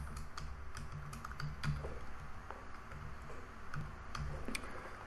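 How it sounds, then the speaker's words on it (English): Fingers tap out a short run of keystrokes on a computer keyboard, crisp close clicks in an irregular rhythm with brief pauses, over a quiet room hum. "I'm just typing ST."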